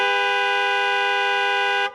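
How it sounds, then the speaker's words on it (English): A truck-mounted train horn fed by an on-board air system blasts one long, loud, steady multi-tone honk lasting nearly two seconds before cutting off sharply. "Hold the horn down."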